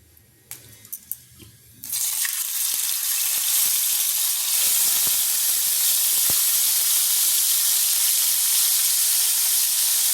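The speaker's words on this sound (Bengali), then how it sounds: "প্রথমে একটু হাই হিটে ভেজে নেব, তারপরে আমি গ্যাসকে কমিয়ে দিয়ে ভাজবো" Spiced chicken hits a pan on high heat, starting a loud, steady hiss of frying that holds continuously after a few quiet clinks at the start.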